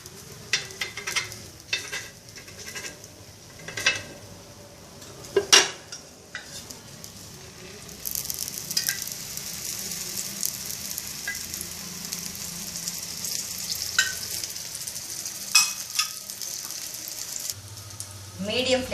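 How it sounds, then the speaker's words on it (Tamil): Wheat rava adai frying in oil in a pan: a low sizzle with spoon taps, scrapes and clinks of utensils against the pan, growing to a steadier, louder fry partway through. "அடை 4 பக்கமும் ஓட்டை போட்டுட்டு கொஞ்சம் எண்ணெய் ஊற்றலாம்"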